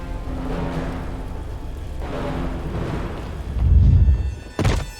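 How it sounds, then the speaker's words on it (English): The Second Sister Inquisitor lands on the ground in a Star Wars Kenobi scene, a loud, meaty thud near the end that follows a low, rumbling buildup of dramatic score and ambience. "Even her landing on the ground has this meaty, impactful thud."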